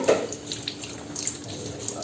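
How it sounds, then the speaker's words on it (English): Tap water runs steadily into a kitchen sink while chili is rinsed under it, a close, continuous splashing stream with small irregular spatters and no talking. "The first thing you have to do is to wash the chili"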